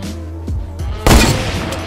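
Gunfire in the video game Fortnite: a soft shot or two early on, then a loud burst of distant-sounding shooting that lingers in a rumbling, reverberant tail.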